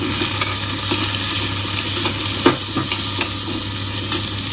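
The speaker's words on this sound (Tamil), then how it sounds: "இது கூட சின்ன வெங்காயம் ஃபஸ்ட்டு சேர்த்துக்கலாம், கருவேப்பிலையும் சேர்த்துக்கலாம், நல்லா வதங்கட்டும்" Small shallots and curry leaves sauté loudly in a pan for a dried-anchovy thokku, a steady close sizzle broken by repeated scraping stirs and light clatters of the ladle.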